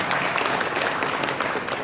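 Audience applause at an award ceremony, a dense continuous wash of clapping from a crowd, fairly loud and even throughout the short stretch with no voices standing out.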